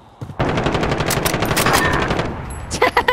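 Rapid automatic gunfire in Call of Duty: Modern Warfare, a loud dense burst lasting about two seconds, followed by a few separate shots.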